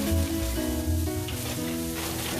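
Chopped onion hitting butter in a hot pan while chicken and rice are prepared, giving a steady close sizzle and crackle with a faint low hum, no talking.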